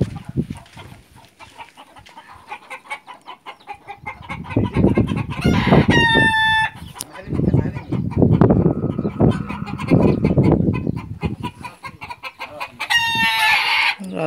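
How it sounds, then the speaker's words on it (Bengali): Large roosters at a farm with camels in Qatar crow loudly twice amid steady clucking and scattered fowl calls, close by and with no talking. "বড় বড় রাতা মুরগি আছে।"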